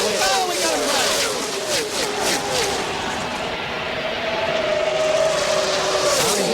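NASCAR Winston Cup race cars roar past at Talladega during the 2000 Winston 500, a loud continuous engine drone with pitch shifts as cars pass, under excited race commentary.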